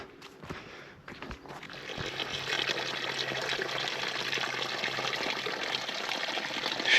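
Snowmelt spring water runs down from the mountains along the Rossfeld Panorama Road, a steady close rush and trickle that swells after a few footsteps and some faint knocks at the start.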